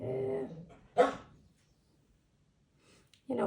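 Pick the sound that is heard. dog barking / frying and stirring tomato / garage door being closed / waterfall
dog barking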